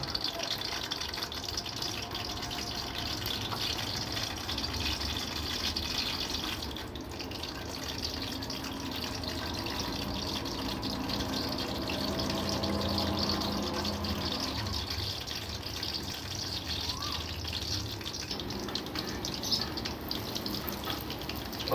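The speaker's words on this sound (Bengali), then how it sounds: "তেল গরম হয়ে গেছে, এখন একটা একটা করে পাশ দিয়ে বসাই দেব।" Pieces of bun dough fry in hot oil, a steady, even sizzling hiss that runs unbroken at moderate loudness with no one talking.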